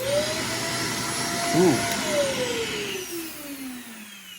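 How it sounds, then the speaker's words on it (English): A Shark Navigator Swivel vacuum cleaner runs steadily in a basement, a loud continuous whine and airflow roar whose pitch slowly drops, with a brief vocal exclamation partway through. "Apparently I decided to vacuum downstairs"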